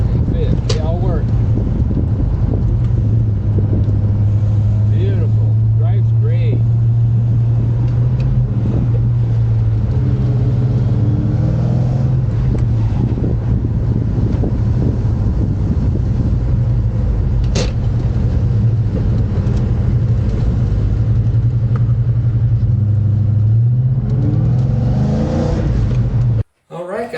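A 1997 Cobra on a test drive, its engine droning steadily with shifts in pitch as gears change, heavy wind and road noise throughout, and someone talking over it.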